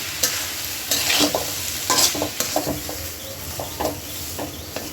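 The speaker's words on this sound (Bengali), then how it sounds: "এখন দিয়ে দিব এই ব্লেন্ড করে রাখা কাঁঠাল বিচি। এটাও মশলার সাথে কিছুক্ষণ কষাই নিই।" Blended jackfruit seeds are stir-fried with spices in a pan, giving a sizzling hiss broken by repeated scraping strokes of a spatula at an irregular rhythm, close and clear.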